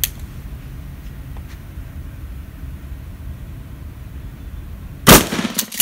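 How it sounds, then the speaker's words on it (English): A 12 gauge shotgun fires once at a Kevlar vest outdoors, a single loud, sharp blast that arrives near the end after quiet ambient hiss, followed by a brief ringing tail. "See what the shotgun does."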